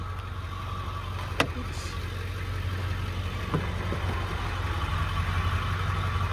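A 2003 Ford Excursion Limited with a 7.3 engine and 87,000 miles idles steadily, giving a continuous low rumble with a couple of brief clicks near the start.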